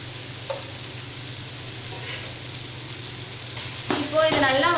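Steamed rice noodles (sevai, idiyappam) being stir-fried and broken up in a hot pan, a steady sizzle with scraping stirs growing louder near the end, and a voice briefly audible.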